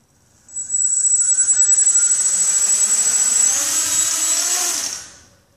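A small tinyCopter drone's motors spin up into a steady, high-pitched whine with a sharp tonal hum, holding for about four seconds before winding down to silence, close and loud, with no talking.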